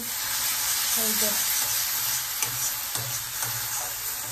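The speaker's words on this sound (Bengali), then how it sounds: "কষাচ্ছিলাম মশলাপাতি দিয়ে" Spice paste with ground spices, salt and sugar is sautéed in very little oil, giving a close, steady sizzle with soft stirring scrapes against the pan.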